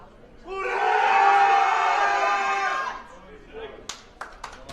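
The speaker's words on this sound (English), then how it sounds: "you heard the Poles cheering him on" Polish supporters in a crowd at a European para powerlifting championship in Eger roar and cheer loudly for a lifter on a 143 kg attempt, a sustained swell of voices lasting a couple of seconds before fading into scattered claps and shouts.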